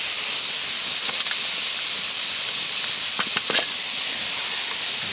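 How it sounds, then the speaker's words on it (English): A loud, steady hiss of water boiling in a pot for mashed potatoes, with bubbling pops, continuous and close throughout. "boiling water for mashed potatoes"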